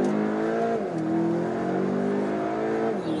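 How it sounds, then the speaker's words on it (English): A Volkswagen Arteon in sport mode accelerates hard at full throttle. The loud engine tone climbs steadily, dips briefly at two gear changes, then climbs again, close and with no talk. "Bury the throttle."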